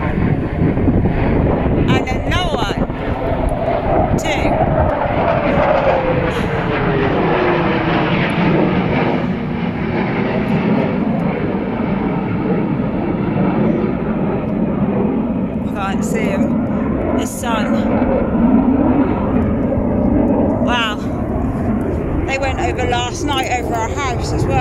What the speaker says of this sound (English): another military aircraft.